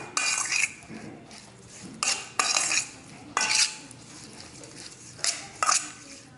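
Seasoned food being mixed with a utensil, likely for a quick weeknight dinner, seasoned with black pepper and paprika: several bursts of close clinking and scraping against a dish, with short pauses between strokes.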